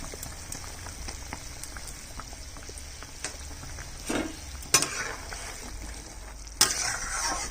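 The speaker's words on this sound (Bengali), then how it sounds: "ঝোলটা ফুটে গেছে, মাছটা দিয়ে দিচ্ছি।" Rohu fish added to a boiling thin curry broth in a pan, giving a steady close bubbling simmer with light stirring scrapes and a couple of sharper clinks or splashes near the end, no talk.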